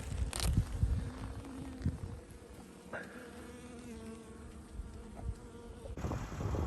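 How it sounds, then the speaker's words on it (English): Dense, continuous buzzing of many honeybees close up on a hive frame, a steady droning hum with occasional louder passes near the listener. "A lot of bees on there."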